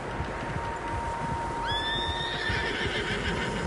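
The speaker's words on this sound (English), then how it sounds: "Horses, quite a few of them." Several horses neigh and whinny in a Red Dead Redemption 2 outdoor scene, a high drawn-out whinny rising midway and trailing off over steady ambient noise and faint hoof clopping.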